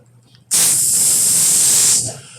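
A voice makes a loud, sustained hissing spray sound for about a second and a half, mimicking bleach pouring out hard.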